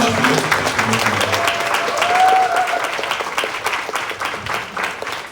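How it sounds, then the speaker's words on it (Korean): Audience applause at a team proposal meeting fills the room, dense and loud clapping sustained throughout, with a voice speaking briefly over it. "다시 한번 유다이아몬드가 되시는 정은혜 리더님 큰 박수 부탁드립니다."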